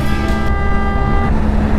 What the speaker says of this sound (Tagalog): buti na lang malakas ang busina natin!